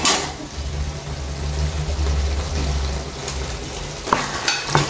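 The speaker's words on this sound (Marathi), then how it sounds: "आमचो पात्रांव हिंगा कितें कुटूर कुटूर कुटूर करूंक" A prawn chili fry with potatoes bubbles and sizzles in a pan at close range, a low steady simmer with a few faint clinks of a utensil near the end.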